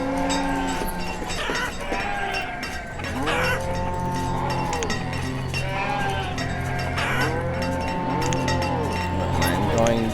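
Sheep in the village-building game Banished bleat repeatedly in wavering, overlapping calls that sound loud and close, with a steady farmyard murmur underneath.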